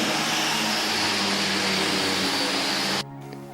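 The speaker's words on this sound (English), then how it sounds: "Now we're cleaning up the inside circles and machining them to the correct diameter." A metal lathe cuts the inside circles of steel armillary sphere rings, a loud steady whirring drone that drops suddenly to a faint hum near the end.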